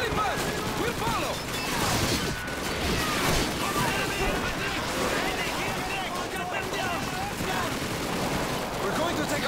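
Battle sounds from Call of Duty 2 fill the clip, with rifle and machine-gun fire crackling almost continuously at close and middle range. Shouted voices and impacts mix in throughout.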